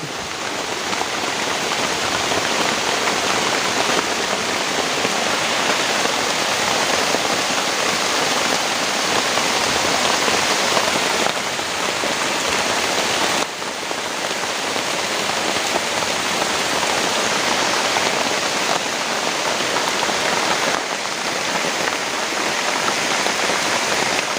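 Heavy rain pours down in a forest, a dense, loud, unbroken hiss that holds steady for the whole stretch with no voices.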